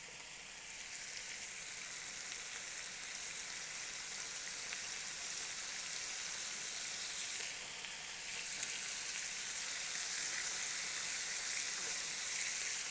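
Meat fries undisturbed over high heat for okonomiyaki, giving a constant bright sizzling hiss, close and even throughout and growing slightly louder near the end.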